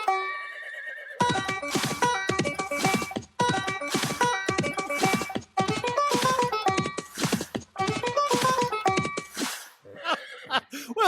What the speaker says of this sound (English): What's with the neighing in there?